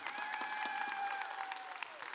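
A small audience gives steady, moderately faint applause for a couple of seconds, with a sustained tone ringing over it.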